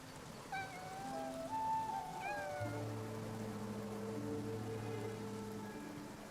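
A cat meows several times in the rainy game world of Infinity Nikki, a run of short, rising and falling calls early on over a soft patter of rain and low steady tones.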